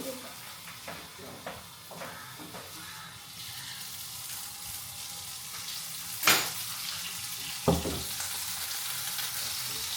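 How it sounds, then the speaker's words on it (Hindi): Chicken pieces hitting hot oil in a pan for tacos, a steady close sizzle and hiss with scraping stirs and two sharp spatters standing out. "तो चलिए मैं इसमें डालूंगी चिकन,"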